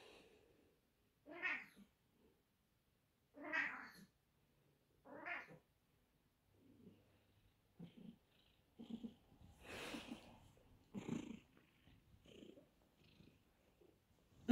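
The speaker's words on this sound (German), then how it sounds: "Meine Katze ist blind geworden." A blind cat purrs softly in short bursts, close by, with quiet pauses between the low rumbling phrases.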